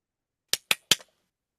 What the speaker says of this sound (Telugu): 3 హ్యాండ్ క్లాప్స్ అని ఒకటి ఉంది.